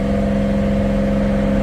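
A car engine revs hard under full throttle, a loud, steady, close drone with strong low harmonics, heard alone with no voices.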